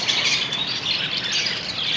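Lories and Amazon parrots in a bird shop in Mardan fill the air with a continuous, shrill chorus of overlapping chirps and squawks, steady and close.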